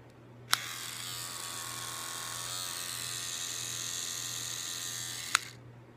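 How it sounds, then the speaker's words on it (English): A powered electric toothbrush hums with a steady, even buzz for several seconds, switched on and off with sharp clicks at either end. "The powered toothbrush rotates up to 100 times per second"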